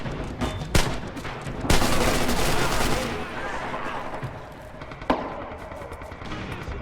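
Gunfire in the World War II shooter Red Orchestra 2, with sharp shots and a dense burst of rapid firing near the start, then scattered reports under ongoing battle noise and voices.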